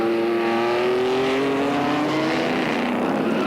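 Historic race cars, including cars such as an AC Cobra, Porsche 908s and Ford GT40s, roar loudly around the old banked Montlhéry circuit near Paris. The engines drone steadily, and their pitch shifts as the cars pass.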